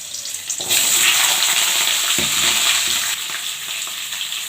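Malabar spinach drops into hot oil tempered with five-spice, setting off a loud, steady sizzle that jumps up suddenly and then crackles on evenly with light stirring, no voices.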